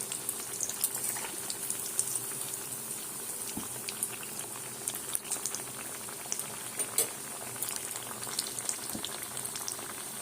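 Battered fish pieces frying in hot oil give a steady, close sizzle full of fine crackles and bubbling pops that continues without a break and with no voices.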